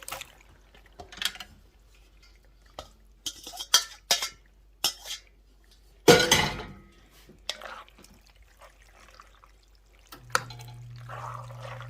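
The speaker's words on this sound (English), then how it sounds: "My pasta is cooked, so it's going right in the pot." Cooked penne goes into a pot of braised short rib sauce, giving scattered wet clinks, drips and stirring scrapes, with one sharper clatter midway and a low hum near the end.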